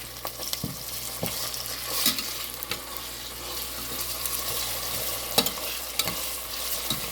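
Onions with ginger garlic paste and salt sauté in a pan for tomato biryani, a steady sizzle broken by scraping stir strokes at irregular intervals, close and moderately loud, with no talking.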